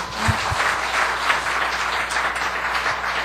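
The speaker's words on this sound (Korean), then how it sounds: "다시 한번 강연해 주신 김정렬 목사님께 감사의 박수 부탁드립니다" An audience applauds steadily at the close of a church book-concert lecture, a dense even patter of clapping holding at one level throughout.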